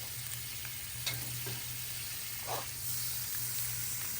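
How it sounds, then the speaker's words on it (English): Butter sizzles on a hot griddle with a steady hiss, a few soft pops and a low constant hum underneath, heard close by with no voices. "we're going to add a little bit of butter to the griddle here"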